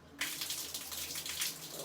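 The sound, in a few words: shower running with cold water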